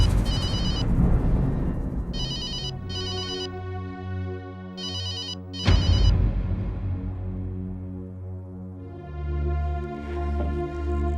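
An office telephone rings unanswered, its electronic ringtone repeating in short bursts over a sustained musical backdrop, fairly loud and close.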